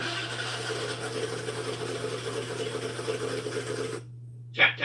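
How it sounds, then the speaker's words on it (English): An engine cranks with a steady mechanical whir and a metal-on-metal grinding and rasping that runs for about four seconds, then cuts off, followed by a brief noise. "Listen to the metal on metal sound this engine's making."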